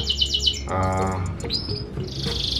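Scotch Fancy canary in a home breeding cage, giving quick repeated high chirps, a short rolling trill, then sustained whistled notes, fairly close and clear with no talk over it.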